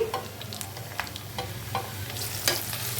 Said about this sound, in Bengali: আর কোফতাও ভেজে দিচ্ছি